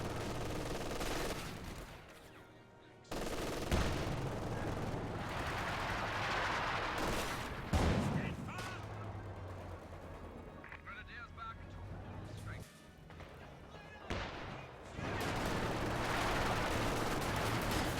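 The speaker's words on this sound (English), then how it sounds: "Oh, I hear a anti-tank gun out on the field." An anti-tank gun fires during a Company of Heroes 2 battle amid sharp gunfire cracks and booms, under near-constant talk from a caster.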